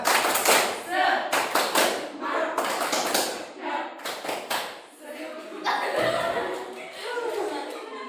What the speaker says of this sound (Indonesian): Kelompok A tepuk semangat